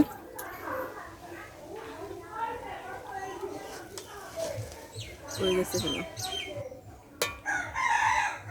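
Chickens cluck and squawk nearby in a busy, uneven stream, with a person talking among them.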